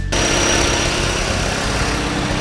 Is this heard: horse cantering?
no